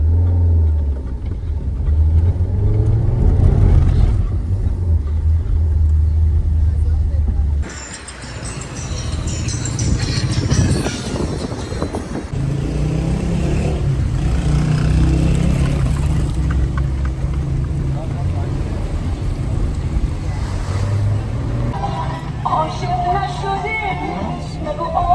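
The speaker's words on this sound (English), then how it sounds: "We are stuck in the traffic, although it is late in the night." A car stuck in late-night traffic on the drive home from Zoshk village in Iran, its engine a steady low rumble close by, shifting partway through to a brighter, noisier road wash, with soft talk and background sounds mixed in.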